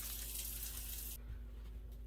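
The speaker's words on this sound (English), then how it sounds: "we're gonna put 1 1/2 cups of warm water." Warm water pouring into flour for no-knead bread, a steady close splashing gush that cuts off partway, leaving a quieter trickle.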